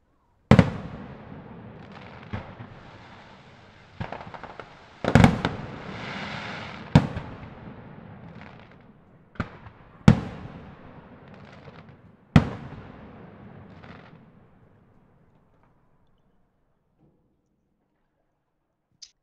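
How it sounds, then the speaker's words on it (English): Magical illusionary fireworks from a tabletop fantasy game scene: a string of sharp pops and crackling bursts, some loud and close, with fizzing sparkle trailing between them, thinning out over the last few seconds into near silence. "you are surrounded by little illusionary fireworks and fairy light"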